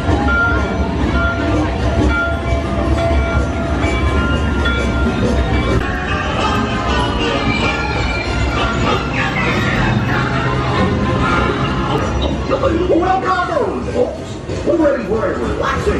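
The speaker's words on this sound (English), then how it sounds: "Want to take a ride on the train?" A theme park ride train at Disney's Hollywood Studios rolls along with a continuous low rumble and clatter, while a voice keeps talking over it throughout.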